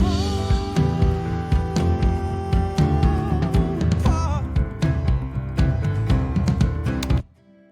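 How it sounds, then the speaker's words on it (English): A dry, unprocessed piano plays a steady rhythmic passage of chords and melody, close and clear, then stops abruptly. "As opposed to having just a plain piano that would sound like this."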